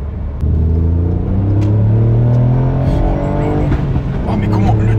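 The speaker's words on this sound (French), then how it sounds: "le turbo, comment on l'entend souffler?" A Ford Fiesta ST Mk8 pulls hard under acceleration, its engine rising in pitch through the revs with a loud, close cabin rumble and turbo whoosh, while occupants talk over it.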